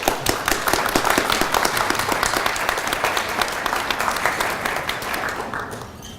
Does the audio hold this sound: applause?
yes